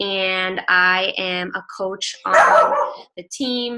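A pet dog barks in the background of an online video call. A sharp bark or two breaks in around the middle while someone talks close to the microphone.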